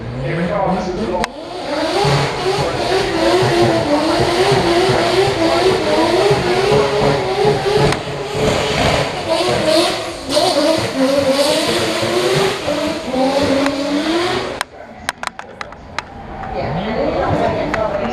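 A race car with a 7.4 litre turbocharged Nissan V8 of about 1200 horsepower, Garrett turbo, accelerates hard up the Goodwood Festival of Speed hill, a loud sustained engine roar rising through the gears with crowd chatter underneath, then a brief drop before it resumes.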